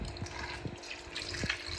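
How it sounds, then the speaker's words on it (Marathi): Water is poured into a container holding hardened dried fish to soften it, with a soft, steady trickle and a few faint splashes nearby. "जरा पाणी ह्याच्यामध्ये टाकून ठेवते."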